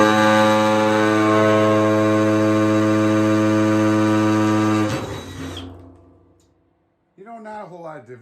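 A Milwaukee M12 Fuel drill runs in hammer mode, a loud steady whine for about five seconds that winds down and stops, after which a person speaks briefly.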